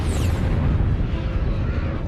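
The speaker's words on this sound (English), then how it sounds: "A supernova explosion is an incredibly powerful explosion." A dying star exploding as a supernova, rendered as a sustained deep roaring boom with dense low rumble that holds steady and loud throughout, with no voices.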